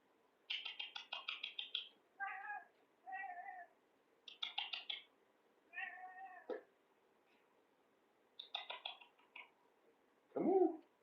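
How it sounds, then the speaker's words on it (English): A cat meows loudly indoors in a string of drawn-out, wavering calls with short pauses between them, ending in a lower, rougher cry. "did y'all hear that cat? He's so loud."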